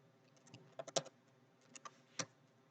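Code being typed on a computer keyboard: scattered key clicks in short irregular bursts, fairly close and quiet, with no talking.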